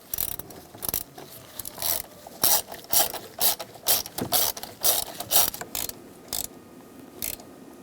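Ratchet clicks in quick bursts while snugging steering column bolts on a 2007-2014 Chevy Silverado 2500HD, close and crisp with short pauses between strokes, no talking.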